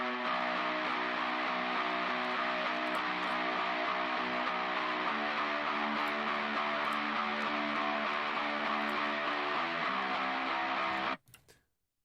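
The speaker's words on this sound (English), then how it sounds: "So I had 3 layers of guitars. This is the main layer." Main layer of a song's guitars, a dense, mid-range-heavy wall of distorted chords with little bass. It plays loud and steady before cutting off abruptly near the end, with no voices over it.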